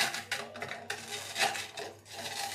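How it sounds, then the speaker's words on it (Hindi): A metal utensil scrapes, taps and grinds roasted edible gum (gond) in a kitchen vessel, a series of close, uneven scraping and crunching strokes with no talking. "तो हम इसे किसी भी बर्तन से इस तरह से तोड़ लेंगे,"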